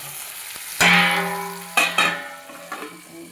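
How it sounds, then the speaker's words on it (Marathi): Stuffed eggplants drop into hot oil with a sudden loud sizzle that slowly fades, followed by a couple more crackling bursts as they fry. "मस्त असे तेलामध्ये तळून घेऊया."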